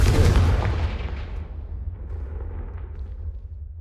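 A Confringo fire spell cast in Hogwarts Legacy bursts with a loud, heavy boom, then rumbles and fades over several seconds without any voices.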